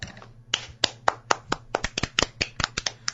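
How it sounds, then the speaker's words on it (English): Applause from a few people, a dozen or so separate sharp claps in uneven rhythm, close and fairly loud. "Please hold your applause."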